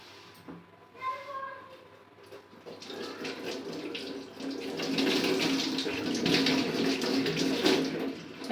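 Tap water running into a container at home, starting after a few faint sounds and growing to a steady, louder rush of pouring water toward the end.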